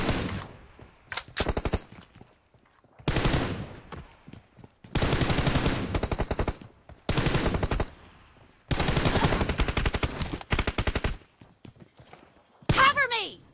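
Bursts of rapid automatic gunfire from a multiplayer video game, several loud volleys separated by short gaps, with a voice talking between them.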